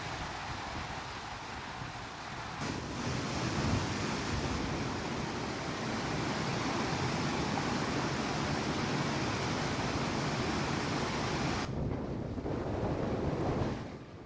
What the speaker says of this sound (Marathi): धरणाच्या सांडव्यावरून कुंडली नदी पात्रामध्ये 246 क्युसेकनं पाण्याचा विसर्ग करण्यात आलाय